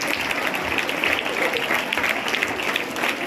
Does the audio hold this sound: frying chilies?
no